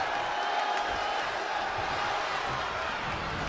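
A wrestling arena crowd in Albuquerque during a contenders match, a dense, steady roar of cheering and shouting that fills the space at an even level throughout.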